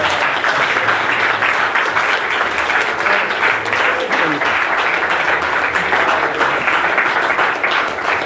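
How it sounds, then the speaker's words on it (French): A church congregation applauds in a continuous, dense burst of clapping that stays loud and even for several seconds, with scattered voices underneath. "Applaudissons pour nous, Seigneur."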